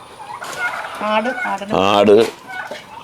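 Chickens and turkeys call on a Kerala farm. Several close, short calls are heard, including a warbling gobble.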